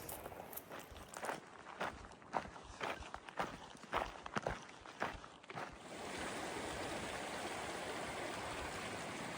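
Footsteps crunch along a trail in an uneven walking rhythm, then give way to the steady, close rush of flowing creek water.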